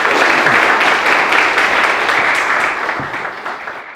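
Members at a youth association founding ceremony applaud a lawmaker stepping up to the podium, a dense, steady burst of clapping that holds for the full stretch and tapers slightly near the end.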